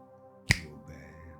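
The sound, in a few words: finger snap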